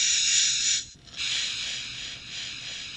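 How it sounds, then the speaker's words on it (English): A hissing inhalation breath through an MSA G1 SCBA face piece, one long airy rush broken by a brief pause before a second steady breath, close and fairly quiet with no voice. "the distracting noise caused by your inhalation breath"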